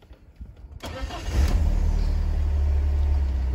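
A BMW E46 with the M43 engine starts up with a brief cranking burst, then settles into a steady, even idle heard close by.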